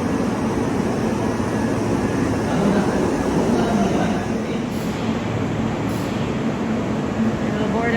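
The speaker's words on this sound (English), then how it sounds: "in fact there is a moving train. I believe this is the Hinotori." A Kintetsu Hinotori limited express train runs past with a steady, loud, broadband rumble of wheels on rail that stays constant throughout, with no clear talk over it.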